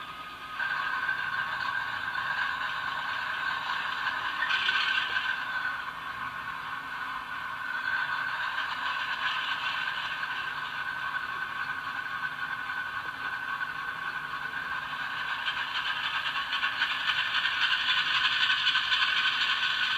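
A Walthers Mainline ES44AC GEVO model locomotive with an ESU sound decoder gives a steady, unbroken diesel engine drone with a bright mechanical rattle, even and continuous from start to finish, with no talking.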